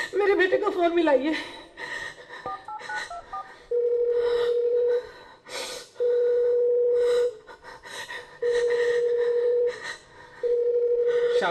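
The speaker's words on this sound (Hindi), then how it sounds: "वो फोन नहीं उठा रहा है" Quick dialing beeps of a telephone keypad give way to a ringback tone that pulses four times with no answer, close and clear, with breathing and a soft chuckle between the tones.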